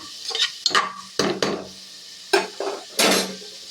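Sliced onions with chilli cook in a pan toward golden brown. A spatula scrapes and stirs in several short, loud bursts with brief pauses between them, over a light sizzle.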